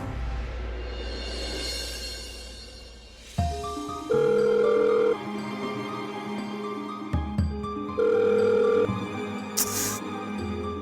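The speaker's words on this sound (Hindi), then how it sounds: "ये कोई फोन क्यों नहीं उठा रहे हैं? ना सत्या ना मंजू" Telephone ringing unanswered indoors in a Hindi TV drama scene, with repeated electronic ring bursts separated by pauses, fairly loud and close, against a low background hum and no talking.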